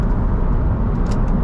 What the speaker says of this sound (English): This has a very subtle kind of stock exhaust.